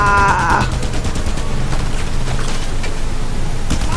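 Enemy gunfire in Just Cause 2 crackles as a fast burst of shots over a loud, constant noisy din, with sporadic reports continuing afterward.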